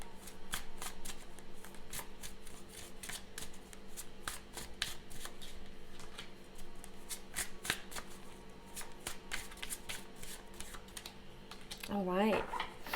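A tarot-style deck of cards shuffled for a pick-a-card reading, a steady riffling and slapping that runs close up for the whole stretch, with a brief sliding flourish near the end.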